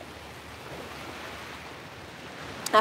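Ocean waves washing along a shore under a dark sky of water, a faint, steady rushing surf with soft wind, ending in a short louder bump.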